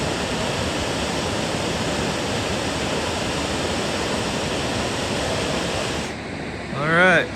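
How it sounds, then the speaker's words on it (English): North Clear Creek Falls near Creede, Colorado pours as a loud, steady broadband roar that fills the scene. Near the end it thins, and a voice rises briefly over it. "There she is, North Clear Creek Falls."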